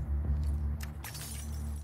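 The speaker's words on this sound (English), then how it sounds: "Why is she smashing stuff?" Glass shatters in a burst of bright crashes and tinkling debris as a character smashes things in The Last of Us Part II, heard over a steady low game hum with no talk.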